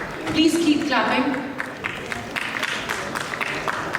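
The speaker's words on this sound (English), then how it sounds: "Please keep clapping." Audience applause at a conference, a moderate burst of clapping that swells and then thins into scattered claps, with a voice speaking over the start.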